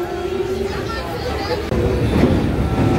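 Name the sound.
train crossing the Mahanadi river bridge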